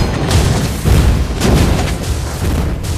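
A booming fiery blast from Valir's Lava Burst skill in Mobile Legends: Bang Bang, sounding as loud, dense bursts of rumbling explosions that roll on for a few seconds, close and heavy, with no talking.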